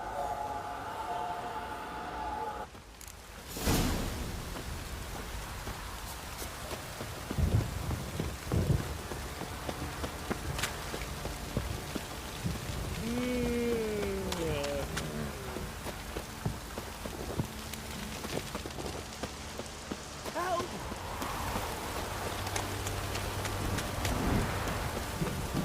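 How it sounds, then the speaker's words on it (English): Heavy rain pours steadily throughout a Witcher 3 game scene, a dense continuous hiss with a sharp crack near the start and some muffled thuds and a brief tonal creature-like cry partway through, all fairly loud and unbroken. "This downpour's a bastard, it is."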